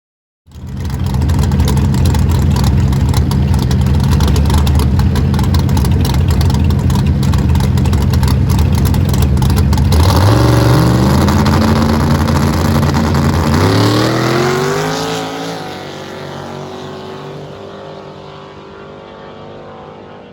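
Drag race car making a full pass down the track at an arm drop event, a loud sustained engine roar close up that shifts pitch upward as it accelerates, then fades and drops off as the driver lets off.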